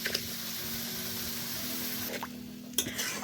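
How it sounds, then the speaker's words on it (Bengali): Water pours steadily into a pan of sour-spicy snakehead fish curry with raw mango and turmeric, a close, continuous liquid rush with a couple of brief splashes and clinks near the end, no talk. "জল দিয়ে দিচ্ছি।"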